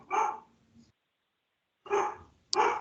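A dog barking several rooms away, two short bursts of muffled barks separated by a pause, moderately faint with no talk over them.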